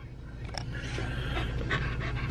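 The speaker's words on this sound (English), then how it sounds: "Oh my God, my dog is scared of the windshield wipers." A dog pants steadily and lets out a few whimpers, scared of windshield wipers running inside a car, close and continuous over a low engine hum.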